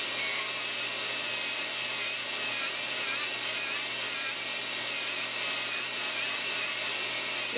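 A dental burr is scrubbed clean with a stainless steel wire brush, giving a steady, close, continuous high-pitched bristly hiss that holds at an even level for the whole stretch, with no talking.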